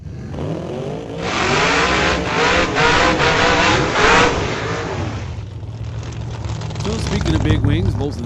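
Drag racing cars launching and accelerating down the strip at an ET series race, a loud roaring engine note rising through the gears before fading, then another car revving nearby as a commentator talks over it.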